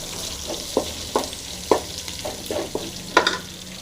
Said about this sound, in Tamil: இடித்த பூண்டு ஸ்பூன் போட்டு நல்லா தலை கழிக்குங்க நல்லா ஃப்ரை ஆகட்டும்